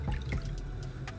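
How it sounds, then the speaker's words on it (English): Water running and splashing at a bathroom sink while rinsing off a face during a night facial routine, a close, steady trickle with a few drips. "I'm gonna go ahead and rinse off."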